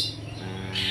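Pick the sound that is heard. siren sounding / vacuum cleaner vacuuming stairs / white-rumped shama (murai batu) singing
white-rumped shama (murai batu) singing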